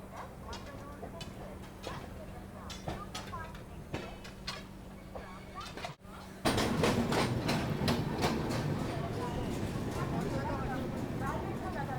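The LTT-Patna Janta Express rolls along with rhythmic clickety-clack and a low rumble, heard from inside an AC 3-tier coach, growing louder and busier partway through, with people talking over it.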